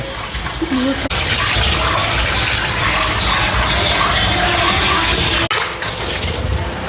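Water gushes from a tap with air trapped in the pipe after the motor sat unused, a loud, continuous rushing and sputtering flow with two brief interruptions, and a person talks over it.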